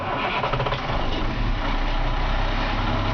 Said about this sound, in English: this motor just purrs like a very quiet, brand new tight engine